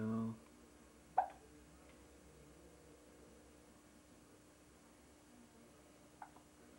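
A baby hiccups twice, each a soft, short catch several seconds apart, against a quiet room after a brief voice at the start.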